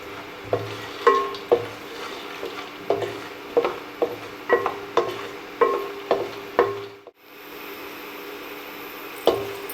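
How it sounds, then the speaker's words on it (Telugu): Peanuts frying and being stirred in a small amount of oil in a pan, a steady soft sizzle broken by repeated sharp scraping strokes of a spoon at a regular rhythm, close by with no talking. "కొన్ని పల్లీలు వేసుకున్నాము కొంచెం మనం పల్లీలు కొంచెం ఆయిల్ వేసుకున్నాము"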